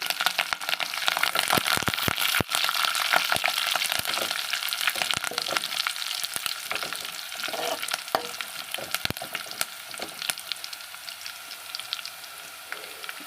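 Curry leaves spluttering in hot oil with dried red chillies for masala gongura, a loud close crackle of sharp pops over a steady sizzle, easing slightly toward the end.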